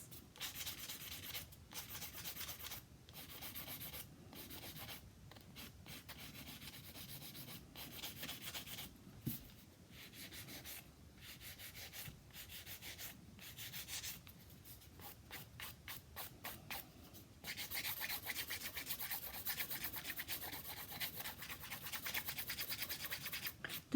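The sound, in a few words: nail file filing acrylic nail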